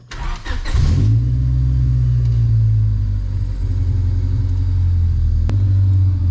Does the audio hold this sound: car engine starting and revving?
yes